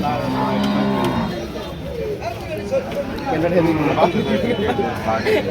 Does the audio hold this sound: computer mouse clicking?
no